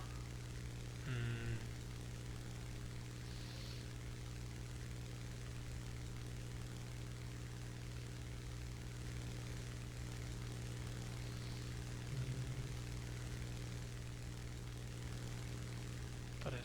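Spitfire propeller engines in War Thunder drone in a steady, even hum throughout, with brief faint blips from the game over the constant engine tone.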